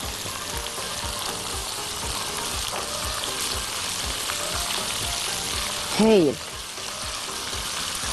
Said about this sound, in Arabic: بدأنا نسمع صوت الطشطشة وبدأ الثوم ريحته تطلع وبدأ كمان يلون